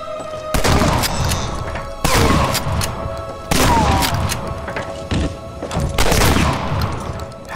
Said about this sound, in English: Shotguns are meant to be good at that range.